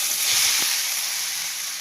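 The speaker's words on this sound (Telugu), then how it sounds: "ఇంక నెయ్యి ఉంది కదండి, ఇంకా నెయ్యిలోనే ఫ్రై అయిపోవాలా." Grated pumpkin fries in ghee with a soft, continuous sizzle and hiss, steady and close throughout with no voices.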